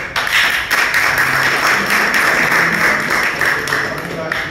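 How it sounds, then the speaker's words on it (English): Applause from guests at a formal chamber of commerce gathering at a consulate in New York, a dense steady clatter of many hands lasting throughout, with voices mixed underneath. "Please applaud."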